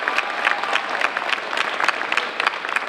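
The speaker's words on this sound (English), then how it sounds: "Give it one more round of applause for Josiah Wade of Lakeview" A college awards audience gives a steady round of applause for a student, dense clapping throughout with no talk over it.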